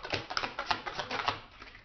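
Tarot cards are shuffled up close in a quick run of soft, papery riffling flicks and taps, quiet and without voices.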